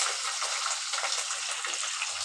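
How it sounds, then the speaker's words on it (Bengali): Onion and green chilli fry in a pan with a steady, dense sizzle, close and even throughout without pauses. "এবার আমি এর মধ্যে দিয়ে দিচ্ছি পেঁয়াজ আর কাঁচা লঙ্কা কুচি"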